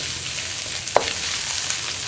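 Eggs mixed with carrot and other vegetables sizzle and fry steadily in an oiled pan for carrot egg rice. There is one brief clink partway through, and no one speaks.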